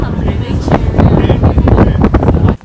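Heavy wind buffets the microphone on a bumpy boat ride out to Amity Island. The loud, gusty rush surges and churns throughout, then cuts off abruptly at the end.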